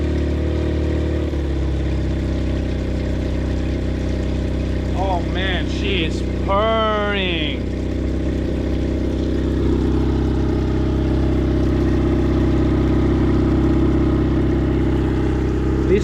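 Restored outboard boat motor idling steadily and close by, a smooth continuous drone with a brief throttle blip in the middle, while someone talks over it.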